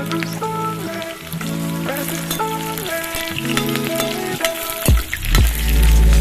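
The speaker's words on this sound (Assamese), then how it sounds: "এয়া ৰৌ মাছ ভাজি ল'ম" Rohu fish from a home pond frying in hot oil, a steady loud sizzle with crackling pops, joined by a low thumping burst and heavier rushing toward the end.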